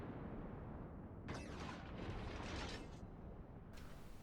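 Guns of the Belfast cruiser fire in World of Warships, loud booming blasts that swell over a constant, dense background rumble, with bursts roughly a second apart.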